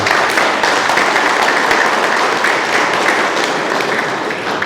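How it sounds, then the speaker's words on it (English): An indoor audience at a manufacturing business talk applauds its sponsors, and the dense, loud clapping holds steady throughout before tapering slightly near the end. "if we could have a round of applause for our sponsors"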